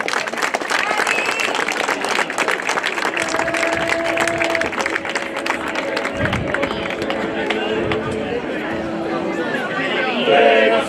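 A crowd at an outdoor Sardinian choral festival in Loculi breaks into sustained applause for a Dorgali choir, loud dense clapping mixed with chatter and a few voices, the noise swelling slightly toward the end.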